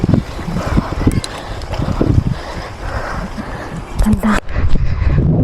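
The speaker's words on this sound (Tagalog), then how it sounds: "Buti mahangin." Steady gusty wind buffeting the microphone outdoors at a view deck on a bike ride, a broad rushing roar with low thumps and a brief drop near the end.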